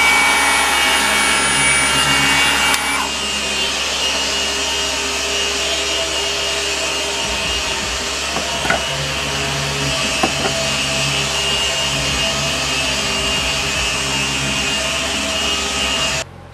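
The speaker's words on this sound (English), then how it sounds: "And no pressure, I'm just holding the polisher in place." An SPTA cordless polisher runs flat against a car's paintwork with a loud, steady whirring hum that holds unbroken for the whole stretch, with a brief higher whine near the start.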